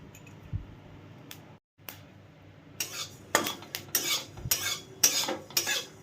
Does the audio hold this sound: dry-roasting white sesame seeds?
yes